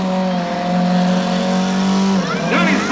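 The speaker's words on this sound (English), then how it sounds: "Doing his burn-up on the wheels now" A motorcycle does a burn-up at a 1989 power sports festival at Aintree, its engine holding a loud, steady drone before the pitch swerves and warbles with squealing tire noise near the end.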